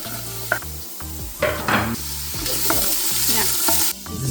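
Onion cooking in olive oil in a big pot, caramelizing for a chicken feet mushroom soup, with steady sizzling frying and repeated scraping stir strokes against the pot, close and fairly loud with no talk.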